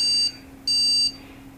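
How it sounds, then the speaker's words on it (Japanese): At power-on, a PC on a B450-F motherboard with a Ryzen 3000 CPU and no memory installed sounds its beep code: a short electronic beep, then a longer one, clear over a steady low fan hum. "メモリーがないっていうようなビープ音が鳴るんじゃないかなと思うんですけども"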